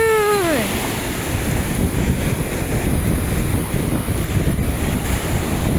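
Sea waves roll onto the coast at the Alang ship-breaking yard in a steady, loud, wind-buffeted roar, with a brief high whine at the very start.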